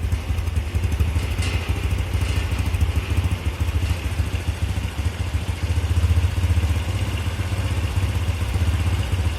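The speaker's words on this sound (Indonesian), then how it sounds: "Kita tambah dulu RPM-nya, naik dulu." A motorcycle engine runs loudly and continuously up close while its RPM is raised during fuel-system work, holding a steady throbbing drone with a slight swell partway through.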